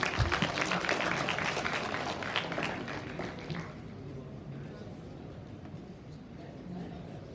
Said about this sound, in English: Let's welcome these leaders with a huge round of applause.